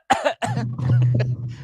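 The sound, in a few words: cough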